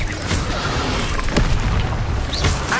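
Expelliarmus, the disarming spell in the video game Hogwarts Legacy, bursts out as a dense, rumbling magical blast with a sharp crack in the middle, loud and continuous over the whole moment without any voices.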